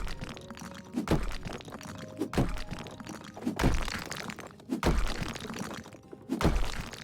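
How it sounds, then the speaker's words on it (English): A wall being smashed apart in the House Flipper video game: a run of heavy thunks and cracking impacts, about five or six blows at roughly one-second intervals, loud and close with rubble-like crunching between strikes. "This is the wall we're destroying."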